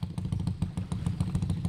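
A close, loud motorcycle engine running rough and fast, its uneven pulsing putter throbbing steadily with rattly clatter and no voices.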